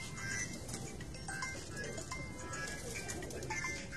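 A large flock of fine-breed pigeons on a rooftop in Sukkur makes soft, low, rolling coos that overlap quietly at a distance, with faint background ambience.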